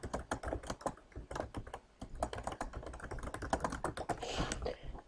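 Rapid, uneven keystrokes on a computer keyboard as a document name is typed, close and steady with no pauses longer than a moment across about five seconds.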